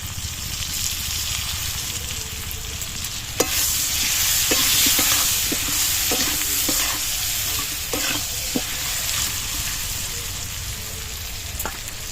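Raw mango pieces sizzle steadily in a hot frying pan while a spatula stirs them, with a continuous close crackle broken by scattered scraping clicks and taps throughout.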